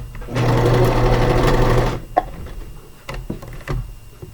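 Serger stitching elastic into the casing of a cloth diaper: one loud, close, steady mechanical hum of about a second and a half, followed by quieter handling taps and rustles.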